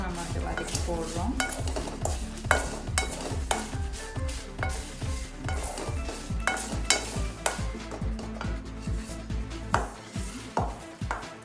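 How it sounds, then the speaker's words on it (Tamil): Lentils are dry-sautéed in a pan for chutney powder, with a rapid rhythmic scraping of a spatula against the pan and light sizzling close by, continuing steadily throughout with no talk. "கொஞ்சம் இதில் உள்ள மாய்ஸ்சர்லாம் போகிறதுக்கு தான் நம்ம அதை வதக்கி போடுறோம்."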